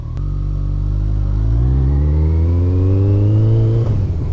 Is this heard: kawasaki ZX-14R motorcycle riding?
yes